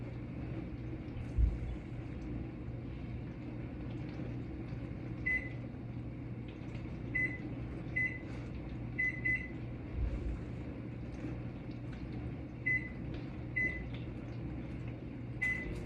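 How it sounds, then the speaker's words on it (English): A microwave oven runs with a steady low hum while heating food, with faint popping and small bursts from the dish inside, heard close and alone. "Better check on the microwave."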